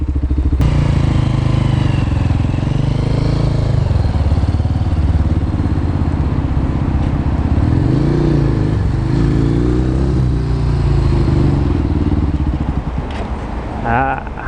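A motorcycle on a CBT training ride speeds up, then shuts the throttle and brakes, its engine note rising and falling over several close, loud cycles before it drops off near the end.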